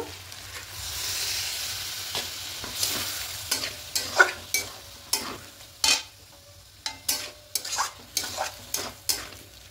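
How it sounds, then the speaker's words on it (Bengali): Vegetarian papaya curry stirred in a pan, a spoon scraping and clattering in a quickening series of strokes over a low, steady sizzle. "এবার খুব ভালো করে একটু মিশিয়ে নেব।"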